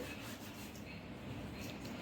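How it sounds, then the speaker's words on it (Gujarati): Carom seeds (ajwain) crushed by hand for spicy gathiya dough, giving a steady, close, dry rubbing and grinding texture that runs unbroken with no talk. "એક ચમચી ભરીને આપણે અજમા ઉમેરશું અને અજમાને આવી રીતે થોડા મસળી લઈશું"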